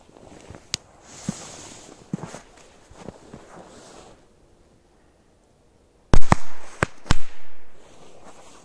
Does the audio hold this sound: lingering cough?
no